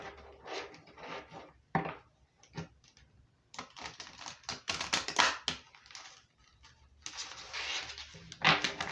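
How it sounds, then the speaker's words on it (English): Crisp papery shuffling of tarot cards in irregular bursts, riffling and sliding close by, with short pauses between rounds. "Let's shuffle one more."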